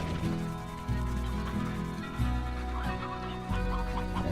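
Chickens in the Slime Rancher video game cluck steadily and close by, with music playing underneath.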